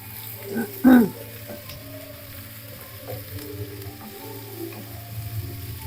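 A Chinese-style dish with tomato and green chillies fries in a pan, giving a steady close sizzle with a brief louder stirring clatter early on, then the frying continues evenly.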